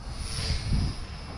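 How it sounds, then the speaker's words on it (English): A WLToys XK A220 P40D Warhawk micro RC warbird flies nearby, its small electric motor giving a steady, fairly quiet buzzing drone that swells slightly in the middle and continues throughout with no talking. "I am just flying it like this so that you guys can see this, because it is a very small plane, a microplane."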